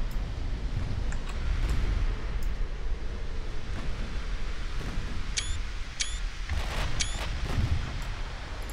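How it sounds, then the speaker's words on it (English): A battleship in a naval video game fires a gun salvo: a dense rumbling boom sequence of cannon blasts layered over a constant noisy game backdrop, with a few sharp mechanical clicks in the middle. "Let's watch this ship fire a salvo."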